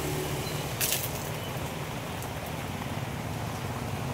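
Steady, dense rainfall patters continuously on a market stall, with a brief louder crackle early on and no talking.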